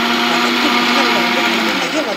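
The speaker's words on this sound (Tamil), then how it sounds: "வெங்காயத்தை வந்து நல்லா போட்டு மிக்சியில் போட்டு நல்லா ஃபைனாக வந்து அரைச்சிடணும்" Mixer grinder blending onions to a fine paste for paneer butter masala, a loud steady whirring drone that runs continuously throughout with no pauses.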